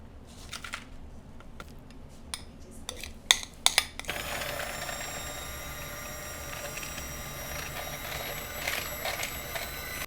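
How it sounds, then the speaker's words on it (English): An electric hand mixer beats butter with brown sugar, starting after a few scattered clicks and knocks, then holding a steady, fairly quiet whirring motor whine to the end. "I'm going to beat it together with a mixer with the butter until it gets light and creamy"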